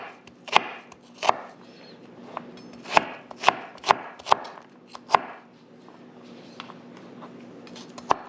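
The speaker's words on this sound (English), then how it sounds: "So I guess I will start with this onion." An onion is chopped with a knife on a board, giving sharp, separate knocks at an uneven pace, about a dozen in all, close and clear with no talking.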